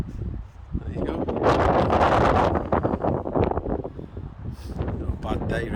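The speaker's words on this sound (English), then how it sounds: "Bit windy again." Wind buffeting outdoors while fishing on the River Mersey, a loud, rough rushing roar with gusty swells and microphone rumble, easing off toward the end.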